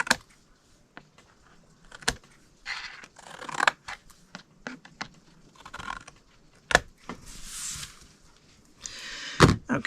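Scissors snip through cardstock along a score line for a Stampin' Up cow tail treat box, making a quiet, irregular series of short crisp cuts with light rustles of paper between them.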